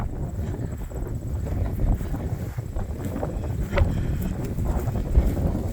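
Gusty wind buffets the microphone outdoors at a rural Illinois cemetery on a mild, breezy day, a close, rumbling roar that rises and falls in uneven gusts with no voices.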